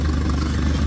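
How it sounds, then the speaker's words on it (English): A boat engine on a broken boat idles high to charge a low battery, a steady, close, loud mechanical drone with a light clatter and no pauses. "So right now I have this idling really high to charge the battery."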